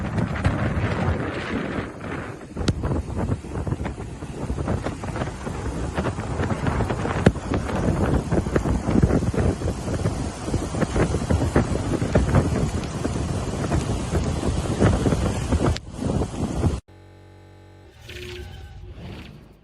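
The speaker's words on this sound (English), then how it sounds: "storm surge rolling right in." Hurricane Melissa on a Jamaican beach brings roaring wind buffeting the microphone and heavy storm surge crashing onto the sand in a loud, continuous rush that cuts out abruptly near the end.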